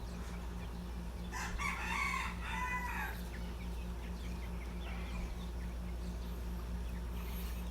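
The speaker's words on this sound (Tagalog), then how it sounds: "Pinapakawalan ko tong ating mga manok." Chickens on a farm in Bien Unido, let out of their coop, a rooster crowing and hens clucking against a steady low hum and rustling background, moderately near.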